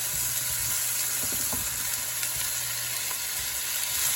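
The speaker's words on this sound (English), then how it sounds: "I'm going to go ahead and just place these onions in there." Onions hit a hot pan of olive oil for a Sicilian sfincione topping, giving a steady, close broadband sizzle with a few soft clinks and stirring touches, no voices.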